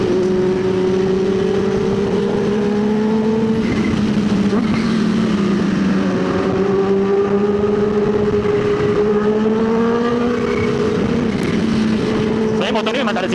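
Kawasaki H2 motorcycle accelerating on a road toward Cameron Highlands, a loud close engine whine rising in pitch through successive gear changes, with a voice speaking over it at times.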